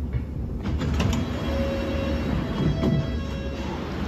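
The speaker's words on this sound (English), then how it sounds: "And now this train's starting, I think." A train starting to move at Chalfont and Latimer station, its low mechanical rumble and hum building steadily with faint squeals and clanks, heard from the platform without talk.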